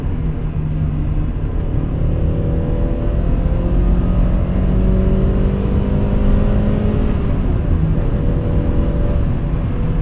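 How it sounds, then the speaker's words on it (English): A 2000 Honda Prelude engine revs hard and climbs through VTEC, a loud, steady, throaty drone with harmonics sweeping upward as it accelerates, close and continuous with no voices. "The car gets way faster once you hit VTEC."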